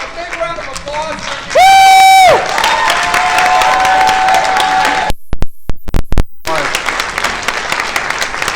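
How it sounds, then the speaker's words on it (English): Audience applause and cheering at a Friday the 13th convention panel at Scarefest 2016, loud crowd noise with clapping and shouts that runs throughout, briefly broken by a sharp tonal squeal and a few gaps. "we can give him a big round of applause"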